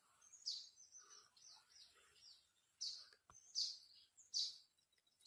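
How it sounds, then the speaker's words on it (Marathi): Small house sparrows at a nest give faint, quiet chirps and thin tweets in short bursts and scattered notes, sounding close but soft against a still background. "चिमणीची माय, चिमणीच्या मायचे छोटे छोटे पिले आहेत मध्ये."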